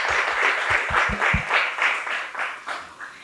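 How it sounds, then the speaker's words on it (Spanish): Audience applause for a speaker at a university architecture panel, a short burst of clapping that fills the space and then begins to fade, with some low thumps near the start. "Un aplauso, por favor, para Rita Gondo."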